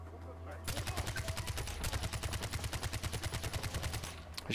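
Heavy machine gun fire in the video game Far Cry 4, a long sustained burst of rapid, evenly spaced shots that runs loud and steady for several seconds, with no talking over it.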